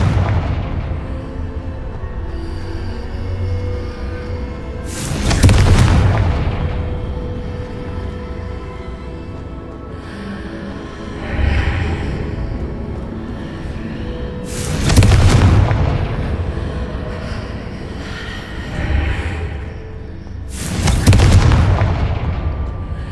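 Confringo fire blast spells exploding in Hogwarts Legacy: three loud, sharp booming bursts spaced several seconds apart, with softer thuds between them over continuous game ambience.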